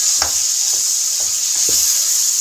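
Yogurt being stirred into mixed vegetables sizzling in a pan, a steady hiss with four or five soft spoon scrapes spaced about half a second apart, close and fairly loud.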